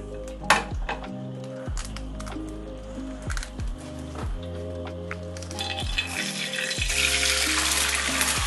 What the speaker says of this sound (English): Time to cook my eggs now